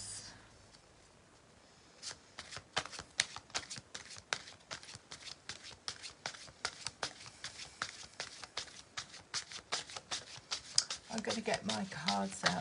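After a quiet start, tarot cards are shuffled close by in a run of quick, rhythmic riffling bursts with soft papery slaps. A voice comes in near the end.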